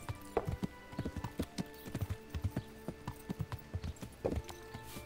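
Horse hooves clip-clopping in the video game Kingdom Come Deliverance, a quick irregular series of close, crisp hoof strikes on hard ground running through the whole stretch.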